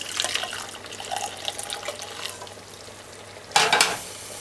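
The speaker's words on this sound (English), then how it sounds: "some water. We're going to add 2 cups." Water poured into a cooking pot for curry goat, a bright splashing gush that starts abruptly near the end after quieter clinks and stirring sounds nearby.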